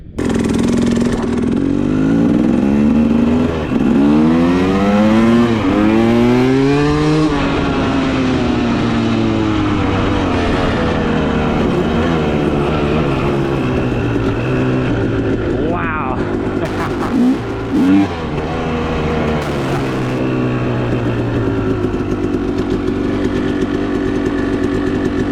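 New motorcycle engine revved hard with the throttle, several loud rising and falling sweeps close by, then steadier running with a few clicks later on.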